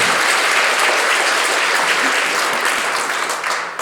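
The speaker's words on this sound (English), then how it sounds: "give her a round of applause" A conference audience gives a loud, dense round of applause, steady throughout with a slight fade at the close.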